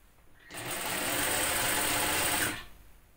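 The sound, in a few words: sewing machine stitching a shirt shoulder seam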